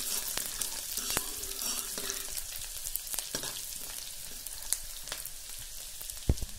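Green chilli paste frying in a pan over a low flame gives a continuous soft sizzle, with faint stirring scrapes and one sharper knock near the end, alone without talk.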